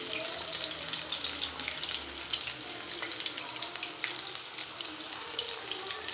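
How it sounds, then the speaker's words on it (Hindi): Pakoras fry in hot oil, giving a continuous, dense bubbling hiss with scattered crackles throughout, no voices. "ऑयल में जितने पकोड़े आ सकते हैं हम डाल देंगे।"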